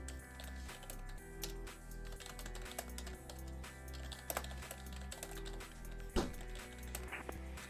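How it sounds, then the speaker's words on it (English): Rapid computer keyboard typing while handling clearances as tower controller at JFK in a VATSIM air traffic simulation, steady clatter of keys with a few sharper clicks, close and fairly quiet, no talking. "I hate typing out clearances, chat."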